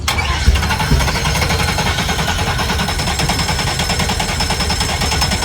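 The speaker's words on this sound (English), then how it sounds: "You can hear it in the way that they're sputtering." Yacht engines turn over and sputter without getting fuel, a loud continuous rough chugging that sounds close and has no talk over it.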